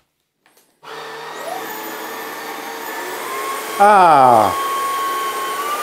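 A Jimmy H8 Flex cordless stick vacuum cleaner with a fluffy brush head switches on and runs with a steady high whine, its pitch briefly sweeping and surging midway as it picks up sugar and oat flakes; a short exclamation is heard.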